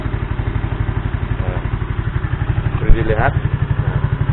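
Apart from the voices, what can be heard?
Yamaha Mio motorcycle engine being revved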